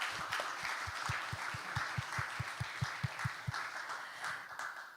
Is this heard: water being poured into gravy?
no